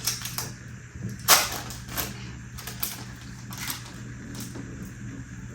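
Processed cheese portions are unwrapped in a kitchen while packing a lunchbox, giving faint crinkling and sharp little crackles of foil and plastic, with one louder rip, over a quiet background hum.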